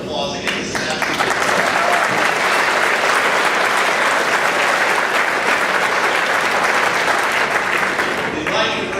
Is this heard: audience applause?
yes